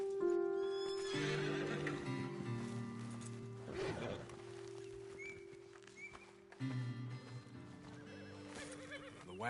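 Horses in the video game Red Dead Redemption 2 whinny loudly and repeatedly near a ledge above a road, with clip-clopping hooves, a steady low background drone and soft game music throughout.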